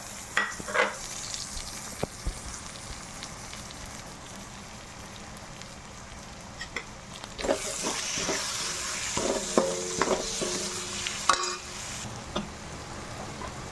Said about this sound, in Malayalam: ഇനി നമ്മൾ എടുത്ത് വെച്ചിരിക്കുന്ന തക്കാളി കൂടി ഇതിലേക്ക് നമുക്ക് ആഡ് ചെയ്ത് കൊടുക്കാം